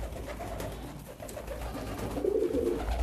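Pigeons cooing at a pigeon farm, low throaty coos rolling on and off with several birds overlapping, fairly close, swelling toward the end.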